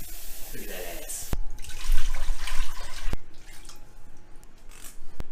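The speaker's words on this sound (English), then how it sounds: "we just want to put 3 litres of water in here." Three litres of water splash and pour into a pot, with a clatter at the start and a few sharp knocks as the flow continues nearby.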